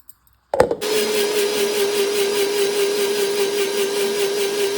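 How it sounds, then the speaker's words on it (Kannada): A mixer grinder whirs steadily as it blends leaves, cumin and raw milk into a juice, starting abruptly after a brief click and running loud and continuous with a strong sustained motor whine. "ಇದನ್ನು ಇವಾಗ ಚೆನ್ನಾಗಿ ಗ್ರೈಂಡ್ ಮಾಡ್ಕೋಬೇಕು, ಜ್ಯೂಸ್ ಥರ."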